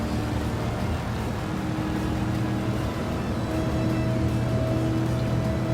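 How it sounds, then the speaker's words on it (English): Pontiac Firebird engine in a racing video game on the Trial Mountain track, a loud steady drone that holds its pitch throughout and slowly rises near the end, with no talk over it. "The engine sounds awesome."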